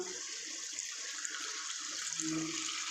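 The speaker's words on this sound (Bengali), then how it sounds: "এই দুধের মধ্যে আমি একটু জল দিয়ে দেবো।" A splash of water being poured into Amul milk in a kitchen while making doi katla, heard as a close, steady trickling pour that swells slightly near the end. There are no voices.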